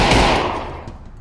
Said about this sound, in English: I will shoot you too.